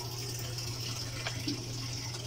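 A Samsung automatic washing machine fills with water, giving a steady, loud rushing flow with a low hum beneath it that continues unbroken through the whole stretch.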